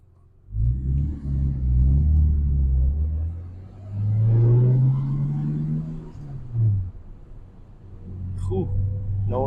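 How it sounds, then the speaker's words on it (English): A Nissan Skyline R34 GTT fitted with an S14 subframe, set at ride height, rumbles close by on its first test drive, its engine revving and easing in waves with a short squeal near the end. "It's time for the first test drive. I have her set at my ride height, and we're about to see how this thing drives."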